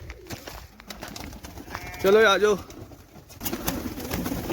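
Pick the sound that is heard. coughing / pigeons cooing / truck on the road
pigeons cooing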